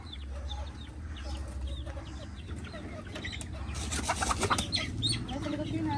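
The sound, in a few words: chickens clucking, mother hen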